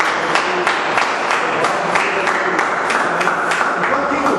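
A church congregation gives applause during a sermon on King Hezekiah, a dense and fairly loud patter of many hands that holds steady throughout, with a speaking voice over it.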